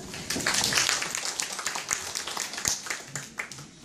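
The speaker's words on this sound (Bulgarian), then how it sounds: "вашите аплодисменти за препинателните знаци" An audience of guests at a school alphabet celebration applauds, a continuous crowd of hand claps with some sharper individual claps standing out, sustained at an even moderate loudness throughout.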